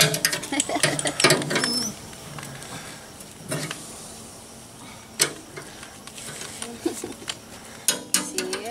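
A bolt being tightened while a wheelbarrow wheel is repaired, with irregular metallic clicks, ratcheting scrapes and knocks in bursts. A voice speaks briefly.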